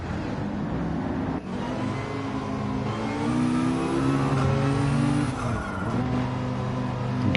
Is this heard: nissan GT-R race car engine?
yes